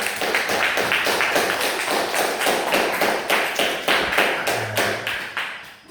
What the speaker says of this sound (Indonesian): tepuk tangan untuk kita semua sekali lagi